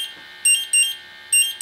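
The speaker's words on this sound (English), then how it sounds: "Right now I'm looking at all sensors are in alarm." An AFC International BTS101 bump test station sets off a gas detector whose sensors all go into alarm, giving loud shrill electronic beeps in repeated bursts of two or so close pulses over a steady hum.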